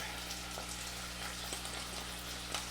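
Peppers, tomatoes and shallot sizzle and fry in a hot pan with seared fond, a steady low crackle with faint occasional pops throughout, no talking.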